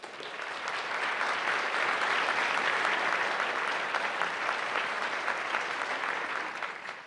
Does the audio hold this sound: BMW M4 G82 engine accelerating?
no